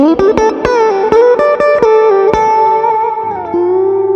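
An electric guitar with mid boost plays a short picked phrase of notes and bends, with a fuller, punchier midrange tone, the last note sustaining and fading.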